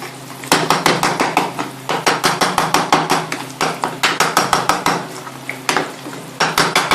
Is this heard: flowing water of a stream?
no